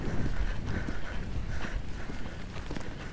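Horse cantering in show jumping training, steady rhythmic hoofbeats on an arena surface with a windy, rumbling background; no speech over the footfalls.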